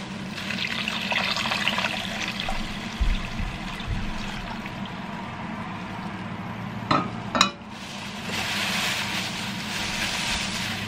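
Cold salt brine is poured over raw eggs in a plastic bag to make salted eggs, a close, steady liquid pour with a few soft knocks partway through, then continuing alone.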